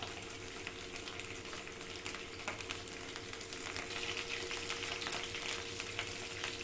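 Onions sautéing in a pan, a soft continuous sizzle and crackle with faint stirring, steady and fairly quiet throughout.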